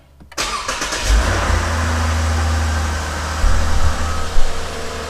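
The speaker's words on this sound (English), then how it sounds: "Let's press the brake a little bit, turn the car on." A 2017 Lexus IS350 engine cranks and catches after a brief silence, then settles into a steady, close idle with a couple of slight rises in revs near the end.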